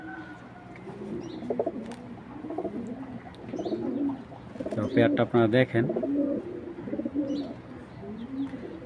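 Bezi pigeons coo repeatedly in soft, throaty rolling calls close by, while someone speaks briefly in the middle.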